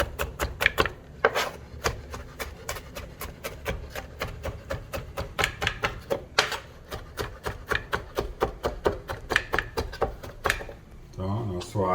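A knife chops food into a fine brunoise on a board in a home kitchen, with rapid, rhythmic taps at close range for the whole stretch. A voice can be heard at times between the cuts.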